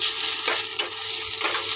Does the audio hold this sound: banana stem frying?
yes